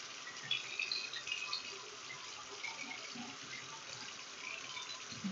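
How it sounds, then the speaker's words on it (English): A tap runs steadily while hands are washed at a sink during an infection-control hand-hygiene routine, giving a quiet continuous hiss of flowing water that stays even throughout with no talking. "Wash my hands."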